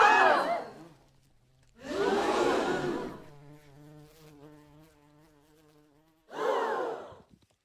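A steady, harmonic buzzing drone sits between bursts of noisy sound, wavering slightly in pitch like a hovering insect close by.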